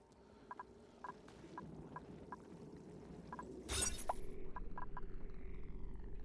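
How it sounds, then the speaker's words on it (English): A water geyser in the Oxygen Not Included video game erupts with a sudden hissing burst, then keeps gushing steadily as a low, rushing wash, after scattered soft ticks over a quiet ambient bed. "there very well might be a geyser up here. I think I even hear one."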